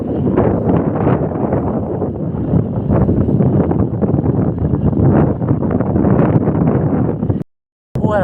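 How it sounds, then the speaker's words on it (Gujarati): Strong wind blows across an open cumin field with sprinklers, buffeting the microphone in a loud, continuous roar that gusts and swells, then briefly cuts out near the end. "પવન બહુ છે"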